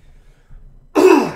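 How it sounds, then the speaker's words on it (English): Throat clearing right before recording a podcast: after near silence, one short, close, loud rasping throat clear ends the clip. "Always gotta like clear my throat."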